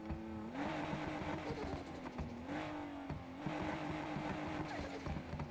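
A badly running car engine in a video game, a rough, uneven idle with a wavering drone that rises and falls, steady and moderately loud with no talk over it.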